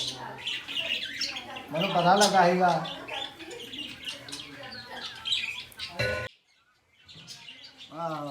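Birds squawk and chirp at a roadside bird seller's shop, a busy mix of calls running under ongoing nearby conversation, with a brief pause near the end.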